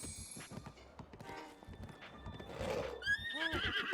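Horse neighing in the video game The Legend of Zelda: Breath of the Wild, a loud whinny near the end over clip-clop hooves and game sound effects, with no talking.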